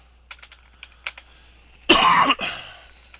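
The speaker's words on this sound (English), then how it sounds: "You type in, whatever message you want to," Light keystrokes on a computer keyboard tap out a short chat message in a few quick bursts, followed by a near, loud throat clearing or cough.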